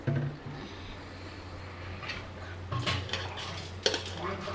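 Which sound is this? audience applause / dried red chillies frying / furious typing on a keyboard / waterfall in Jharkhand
dried red chillies frying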